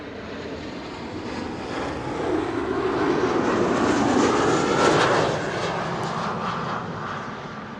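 An IndiGo Boeing 787 Dreamliner arriving from Mumbai roars past on approach to Amsterdam Schiphol, a broad steady engine rumble that swells toward the middle, then eases slightly, loud and sustained with no talk.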